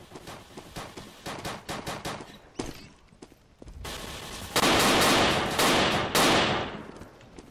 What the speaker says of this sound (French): c'est peut-être efficace ce fusil à pompe